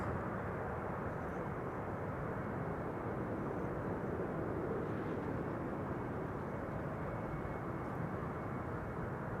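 Airliner flying low on its downwind leg over Amsterdam Schiphol Airport, a steady, broad roaring engine rush that stays constant and fairly loud for the whole stretch.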